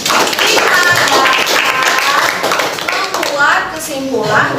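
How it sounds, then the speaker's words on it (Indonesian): A classroom of schoolchildren breaks into loud, close clapping that runs continuously for several seconds, mixed with children's voices chattering through the applause. "Kita beri tepuk tangan"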